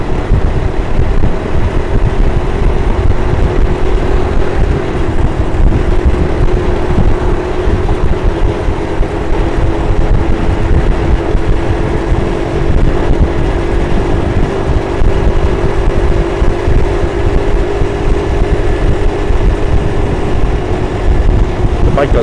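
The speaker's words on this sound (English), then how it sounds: "cruising along at 40 miles an hour in its fourth gear" A motorcycle cruises steadily at 40 mph in fourth gear on a New York City highway, giving an even engine drone with constant wind rush over the microphone throughout.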